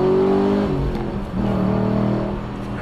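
Chevrolet Camaro Z28 with a naturally aspirated V8 accelerating, a loud deep engine roar that shifts pitch as it revs, steady and close throughout with no talking.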